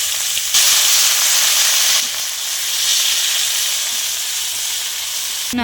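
Whole cumin, torn dried red chillies, cardamom, cinnamon and chopped onion hit hot oil for sarpunti fish biryani, giving a loud, steady close sizzle that surges as the onions drop in, with no talk.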